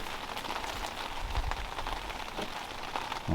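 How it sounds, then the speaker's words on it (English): Heavy rain pours down steadily at a van campsite on the Hatteras National Seashore, a dense, continuous hiss of drops drumming on surfaces close by with no voices. "it just started pouring down rain, so I had to quit"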